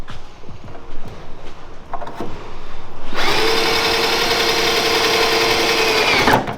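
A cheap power drill spins up and runs in a steady high whine for several seconds, loud and close, after some scattered clattering and handling noise beforehand.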